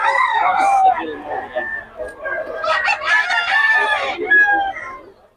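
A rooster at an outdoor flea market crows repeatedly at close range, loud and shrill, with clucking between the calls and faint background talk.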